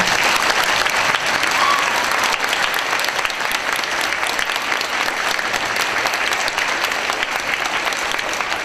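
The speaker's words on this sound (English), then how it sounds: "Please give them a round of applause." Sustained audience applause for veterans at a school Veterans Day ceremony, a dense, steady wash of clapping from a large crowd that stays loud for the whole stretch.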